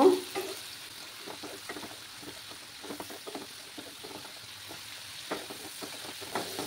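Fish egg curry masala with turmeric fries in a pan, and a spatula stirs it with repeated soft scraping strokes over a low, continuous sizzle close by.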